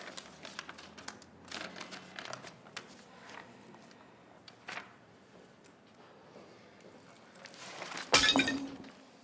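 Something dropped from shaky hands smashes with a sudden, sharp, loud crash near the end, following quiet rustling and small handling noises in a home.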